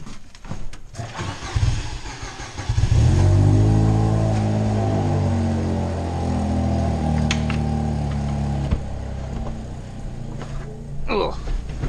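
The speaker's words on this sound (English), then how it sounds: "I'm going to do a couple cold starts here" A John Deere skid steer cold-starts in snow: the starter cranks briefly, the engine catches with a loud rumble, then settles into a steady, deep, close idle.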